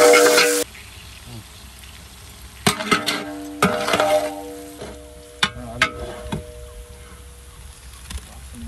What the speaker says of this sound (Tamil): இப்போ நம்ம வெங்காயம் போட போகிறோம்.